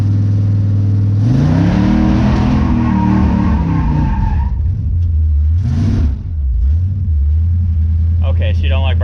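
A 1967 Chevrolet C10 pickup with a replaced torque converter revs hard in a loud, close attempted burnout, the engine note rising and wavering with tire skid and rumble, a brief dip partway before it climbs again.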